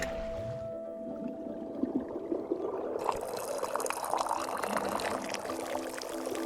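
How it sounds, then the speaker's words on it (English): A drink pours in the video game Wanderstop. After a moment of quiet background tone, a steady splashing stream starts and runs on without voices. "Pour."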